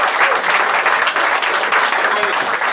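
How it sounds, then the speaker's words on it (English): A crowd gives a band another big round of applause at an evening event, the clapping loud, close and continuous throughout. "Can we give the band another big round of applause?"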